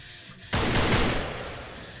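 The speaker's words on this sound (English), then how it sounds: "He was shooting at me." A sudden loud burst of gunfire in the psychological thriller video game The Apartment, a sharp crack that rings out and slowly fades over about a second and a half.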